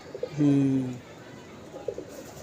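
A single soft, throaty pigeon coo rolls out close by. Faint background noise and a few quiet chirps follow.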